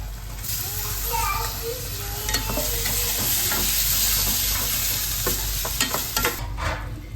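Tomatoes sautéing with masala in a pan for a soya chunks dish, giving a continuous close sizzle with intermittent scraping stirs and a few faint background sounds.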